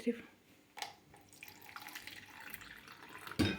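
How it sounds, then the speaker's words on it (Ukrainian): Warm water, about 360 ml, is poured into a bread maker pan at home, a faint trickling splash heard briefly between quiet moments, with soft voices nearby. "Для цього беремо тепленьку воду 360 мл."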